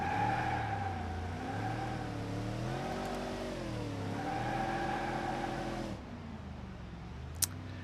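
A Ford Crown Victoria launches hard in BeamNG.Drive, its engine revving up through several rising pitch sweeps with brief dips between them, loud and close, then settling into a lower drone near the end.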